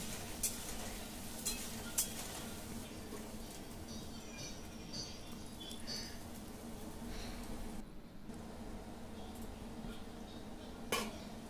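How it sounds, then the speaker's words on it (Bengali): Faint scraping and clinking of a spoon stirring fried potatoes in a pot over a low sizzle, with a couple of light metal taps as the lid goes on. "এবার নেড়ে চেড়ে আমি কিছুক্ষণের জন্য ঢাকনাটা দিয়ে দেব।"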